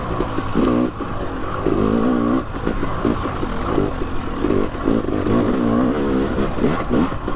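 Dirt bike engine on a wet trail in Revelstoke, BC, Canada, loud and close, churning steadily with throttle surges and rising and falling revs, plus some clatter from the bike.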